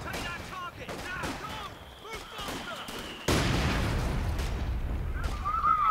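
Mortar and gunfire in the video game Company of Heroes 2: a battlefield din of rifle pops and bursts that surges into a loud, sustained roar of explosions and artillery midway, with voices talking underneath.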